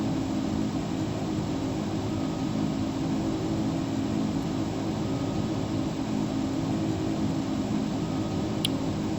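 Steady, continuous roar of a Boeing 757 airliner's engines in FSX Steam Edition, a constant low-heavy drone with no talking over it.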